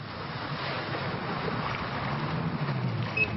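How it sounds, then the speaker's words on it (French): A jet ski personal watercraft runs on the water during a rescue exercise at sea, a steady engine drone mixed with wind and water noise, with no talk. "l'exercice met en scène les scooters des mers, baptisés VNM, véhicules nautiques à moteur"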